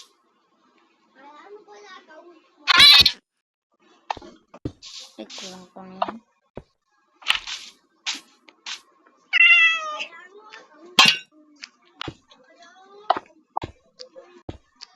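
Domestic cat meowing several times at close range, with harmonic cries spread through the clip between bursts of a person talking and other household noises.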